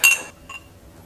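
Glass clinks as salad dressing for a mizuna and baby greens salad with yuzukosho is stirred: a bright clink followed by a softer second tap, close and alone.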